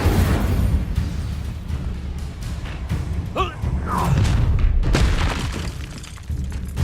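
The Incendio fire spell erupts in the Hogwarts Legacy video game: loud booming blasts with shattering crackles amid a continuous roar of battle effects, with several sharper bursts in the middle.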